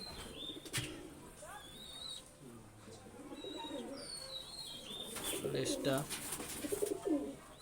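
High-flying closed-tail pigeons coo amid chirps and wing-flapping, with a busy mix of bird calls throughout and faint voices in the background.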